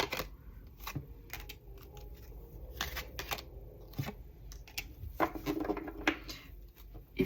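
Tarot cards are shuffled and drawn from a deck in a run of soft riffling and sharp flicking sounds up close, with brief pauses between bursts.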